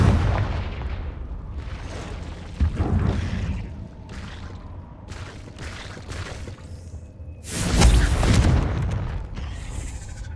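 Fiery Confringo spell blasts in the video game Hogwarts Legacy, set in a cave, a series of booming bursts and whooshing crackles, with a heavier, louder explosion near the end.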